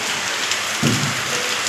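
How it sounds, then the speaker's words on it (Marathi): Heavy rain pours down in a dense, steady hiss, close and loud for the whole moment. "बघा किती जोरात पाऊस चालू आहे"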